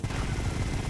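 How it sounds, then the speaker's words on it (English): A helicopter flying overhead in the video game GTA Vice City, heard as a steady, loud rotor thrum with a rhythmic low beating and no talk. "We all heard a helicopter, right?"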